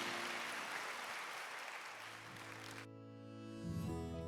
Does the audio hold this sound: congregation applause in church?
yes